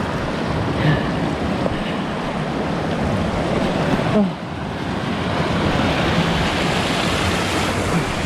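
Water rushes steadily at Hydro Falls off Kennon Road, a dense unbroken roar heard close to the microphone with no voices over it.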